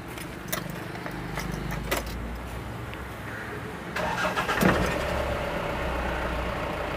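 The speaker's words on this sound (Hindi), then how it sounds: "तो गाड़ी को मैं एक बार स्टार्ट करता हूँ।" A Mahindra Bolero Pickup with an engine check light fault and DTC code P0501 cranks and starts at close range, with key jangles before the crank and the engine then settling into a steady idle rumble.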